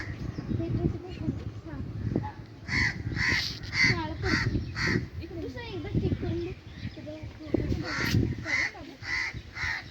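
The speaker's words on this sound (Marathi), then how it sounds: "कावळ्याचा आवाज येतोय चांगला ऐकू." Several crows caw repeatedly in loud, rhythmic bursts at a scenic old Ganesh temple, with children and other people chattering underneath throughout.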